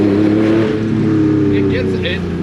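A Porsche 964 with a six-speed gearbox swap accelerates hard from a launch without the clutch, its engine roaring loudly and steadily from inside the car while people talk briefly.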